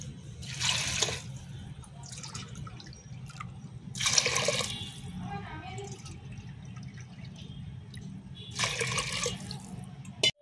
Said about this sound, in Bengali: যে বাটিতে আমি ডাল নিয়েছি সেই বাটির আমি 3 বাটি জল দিয়ে দেবো